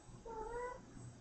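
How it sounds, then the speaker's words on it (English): A pet cat gives a single short, faint meow in a quiet room, heard alone. "If you're hearing meowing now"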